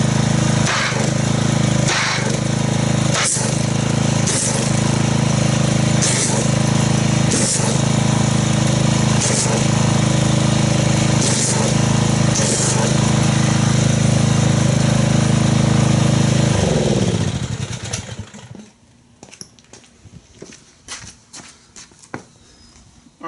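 A pressure washer roars loudly and steadily while foaming Rain-X car wash concentrate, with rhythmic pulses in the engine note, then winds down and cuts out, leaving quiet handling noises.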